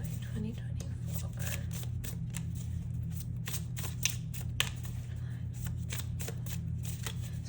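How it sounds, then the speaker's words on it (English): Tarot and oracle card decks being shuffled close up, a steady run of soft riffling and flicking bursts with a couple of sharper snaps, over a constant low hum. "So bear with me as I get the cards out, because I have shuffled the decks"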